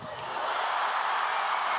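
A volleyball arena crowd erupts into loud, sustained cheering and roaring at a women's Club World Championship match between Conegliano and Tianjin.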